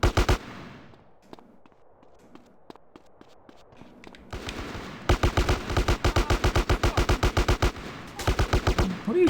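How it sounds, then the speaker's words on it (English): Gunfire in GTA San Andreas: a few sparse shots give way to rapid bursts of loud, close automatic fire with short pauses between volleys. "What are you shooting at?"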